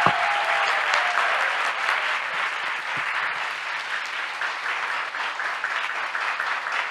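A large audience breaks into sustained applause in a hall, a dense, steady wash of many hands clapping together at even loudness throughout, with a faint voice briefly audible at the start.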